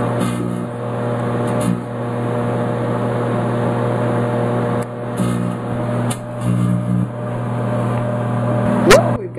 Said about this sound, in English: we'll throw those in the microwave to see if we're capable of actually fusing the joints